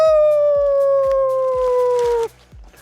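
A big dog on a mountain hike gives one long, loud, steady howl that holds its pitch and then breaks off abruptly, close to the listener, with faint rhythmic thumps beneath it.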